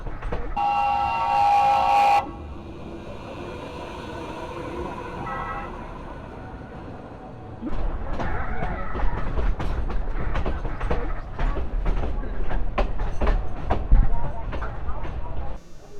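A heritage train on the Palma to Soller railway in Mallorca sounds a bright horn blast near the start, then rumbles and clatters steadily over the rails, growing louder and rhythmic toward the end.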